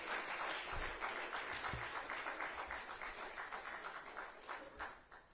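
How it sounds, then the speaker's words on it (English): Audience applause at a Tanzanian ICT stakeholders' conference, steady faint clapping with a few sharper claps, heard from a distance. "Another round of applause for Gwakisa, please."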